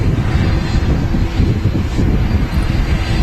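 A loud aircraft taxiing at Manchester Airport gives off a steady, heavy engine roar with a dense low rumble and wind buffeting, continuous and close.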